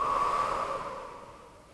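A single long exhale during slow yoga breathing, a soft breathy rush that starts fairly strong and fades away gradually over about two seconds, with no voice.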